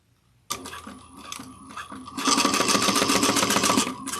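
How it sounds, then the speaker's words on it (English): A sewing machine stitches a clear plastic bag 1/8 inch from the edge, starting with a short burst of rapid needle clatter, pausing briefly, then running in a fast steady stitching run close by. "we're going to sew 1/8 of an inch down the sides"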